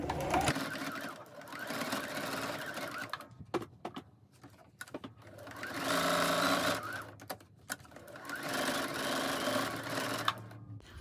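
A sewing machine runs in bursts as it stitches a fabric sleeve cozy for a drinking glass, its steady mechanical whir rising and stopping with brief pauses between runs.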